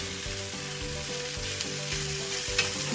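Vegetables stir-frying fast in a very hot pan, a steady loud hiss of sizzling with rhythmic clanks and scrapes of stirring, up close, with no voices.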